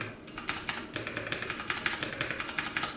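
Keys clatter on a Bluetooth keyboard in a steady, fairly fast typing rhythm. The clicks are close and clear, with no talking.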